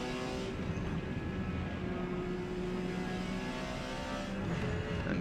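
A Porsche 956 prototype race car in P class at Kyalami in Forza Motorsport, its engine droning at steady high revs with a sustained, even roar through the whole stretch.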